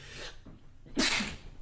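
A single sharp sneeze bursts out close by, loud and breathy, after a brief quieter inhale in a radio studio setting.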